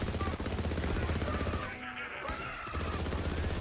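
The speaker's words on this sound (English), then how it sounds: "First thing you'll notice about the Faisor is that its rate of fire is quite marvellous." Borderlands 3 Faisor legendary assault rifle firing in a rapid automatic stream, dense repeated shots that pause briefly midway before resuming, with game effects layered underneath.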